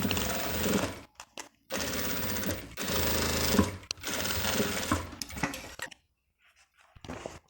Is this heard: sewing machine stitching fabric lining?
yes